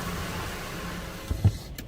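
Power window motor on a Lexus RX400h hums steadily for over a second inside the car, ending with a soft thunk as the glass stops, fairly quiet and with no talk.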